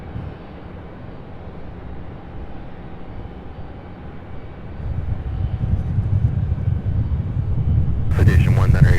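Faint, distant aircraft engine drone of a plane at SDF airport, a low steady rumble that swells gradually, with radio air-traffic chatter over it near the end.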